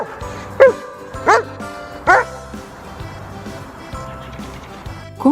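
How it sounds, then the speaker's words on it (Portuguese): A German Shepherd barks in several separate deep woofs, roughly one every second at first, then a final bark at the end, heard close over faint background music. "Pastor alemão."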